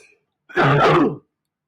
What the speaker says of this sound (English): a little nagging cough